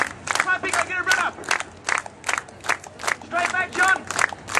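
A street performer's audience claps in rhythmic rounds, loud and close, with someone shouting encouragement over the claps between bursts.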